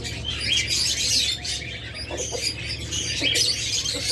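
Lovebirds in a breeder's aviary, a pair kept with eggs, give bright high chirps and tweets that recur throughout over a steady low hum, with no talking.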